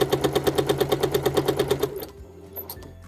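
A sewing machine stitches quilting lines with a fast, even run of loud, close mechanical pulses for about two seconds, then stops abruptly, leaving faint handling sounds.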